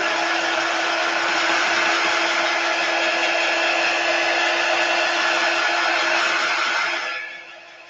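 A hair dryer blows steadily and close up while drying chalk paint on a piece of home decor, a loud even whoosh for about seven seconds before it winds down.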